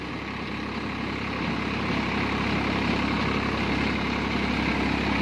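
A Swaraj 843 XM tractor runs a 42-blade Dharanee rotavator on coconut plantation land, its engine a steady, loud, low idling drone that holds even throughout with no voices.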